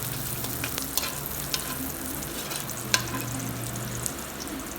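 Salted meat for kare-kare fries in a pan, giving a steady close sizzle with a low hum beneath and a few light stirring clicks, with no talking.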